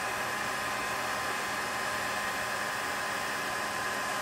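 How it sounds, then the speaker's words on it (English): A heat gun on its low setting blows steadily over paper to dry watercolor ink, giving a constant, even whooshing drone with no breaks. "Then I would hold the paper still and use my heat gun on low."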